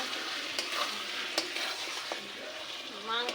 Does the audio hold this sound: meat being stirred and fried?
yes